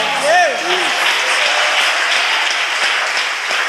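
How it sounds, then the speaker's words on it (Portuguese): A church congregation applauds in sustained, dense clapping after a worship song, with a brief sung or spoken voice at the start over the crowd. "aplauda Jesus, meu irmão"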